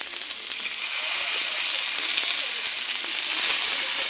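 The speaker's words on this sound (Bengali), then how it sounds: "আমি এখানে মশলাটা দিয়ে এই যে কষিয়ে নিচ্ছি" Vegetables and a ground paste of ginger, cumin, radhuni and green chilli fry in a pan with a steady, broadband sizzle that holds evenly from start to finish, close and moderately loud with no talk over it.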